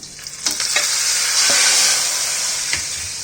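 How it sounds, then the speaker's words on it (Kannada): Mustard seeds, dried red chillies and curry leaves tempered in hot oil for Mangalore-style sambar crackle in a loud, close sizzle that swells and then eases off, with a few light clinks of stirring and no voices. "ಈಗ ಸಾಂಬಾರ್ಗೆ ಒಗ್ಗರಣೆ ಹಾಕೋಣ."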